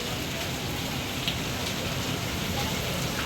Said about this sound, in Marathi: लय पाऊस चालू आहे भयानक